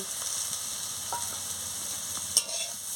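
Pumpkin, potato and bitter gourd fry with whole poppy seeds in a pan, a steady close sizzle running throughout while a spatula stirs with soft scrapes and one sharper clack near the end.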